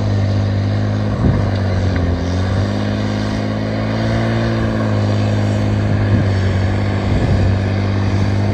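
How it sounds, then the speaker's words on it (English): Camera drone flying low near the ground at a forestry site, giving a steady loud propeller whine and buzz that holds a constant drone with slight pitch shifts throughout. "I gotta be careful I don't hit the ground with this drone too"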